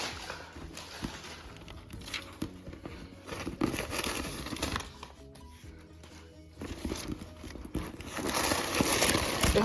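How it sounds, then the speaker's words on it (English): Paper stuffing is crumpled and pulled out of a medium brown Bloomingdale's shopping bag, giving continuous close crinkling and rustling in bursts that swell louder toward the end. "And what's inside is just paper. So I'm gonna take that out."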